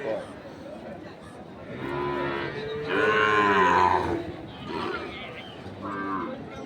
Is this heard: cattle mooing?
yes